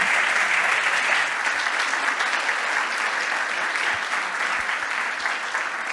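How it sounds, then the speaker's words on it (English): An audience at a scientific conference plenary session gives a round of applause, dense sustained clapping from many hands that stays loud and even throughout. "Another round of applause"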